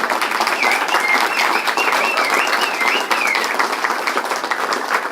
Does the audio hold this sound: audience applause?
yes